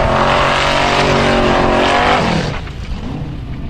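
Formula offroad race cars at Stapafell, Iceland, roaring loudly close by with high engine revs, one passing and fading while another engine note shifts in the distance.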